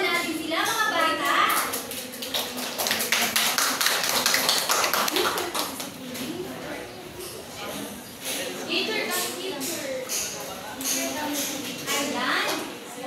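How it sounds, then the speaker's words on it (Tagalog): Children in a Filipino classroom clap together in a lively burst of applause for a presenting group, with a teacher's voice and children's chatter layered over it. "Palakpakan natin sila, mga bata."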